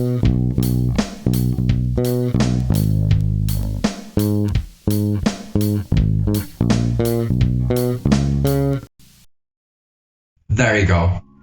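An electric bass plays the four chorus bars of a song, a loud rhythmic run of punchy, repeated notes with short gaps, followed by a brief voice after a pause.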